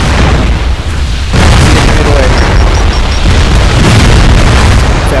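A loud, heavy blast as a mech explodes in the MechWarrior Living Legends video game, a sudden boom followed by sustained roaring, crackling rumble that fills the whole stretch.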